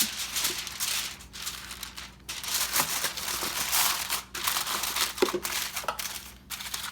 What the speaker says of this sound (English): I'm going to cover it up with foil